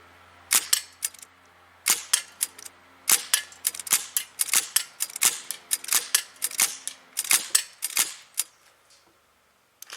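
A Sig MCX rifle fitted with a Tasco 3-9x40 Sportsman Plus scope fires a long string of sharp, cracking shots with irregular spacing, some in rapid bursts, sounding somewhat distant and clicky, with no one talking.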